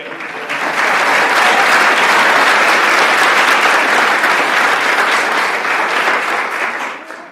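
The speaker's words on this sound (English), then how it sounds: "Can I request a round of applause for the ISSS for this wonderful event?" Audience applause fills a graduation ceremony hall, steady and dense clapping from a large crowd that swells in and holds for several seconds before tapering off, with no voices over it.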